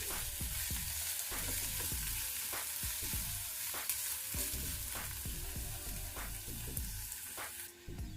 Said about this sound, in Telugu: ఇప్పుడు ఉల్లిపాయలు కూడా కొంచెం ట్రాన్స్పరెంట్ అయ్యే వరకు వేయించుకోవాలి.